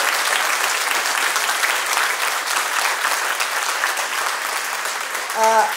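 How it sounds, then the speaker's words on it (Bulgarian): Loud sustained applause from a large audience at a cake art awards ceremony in Bulgaria, continuous clapping that holds steady, with a brief tonal sound rising near the end. "моля още веднъж вашите аплодисменти"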